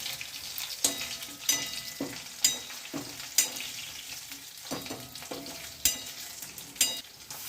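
Tomato, okra and onions sauté in a pan for vatha kuzhambu, a steady sizzle punctuated by regular spatula stirs and scrapes roughly every second, close and moderately loud.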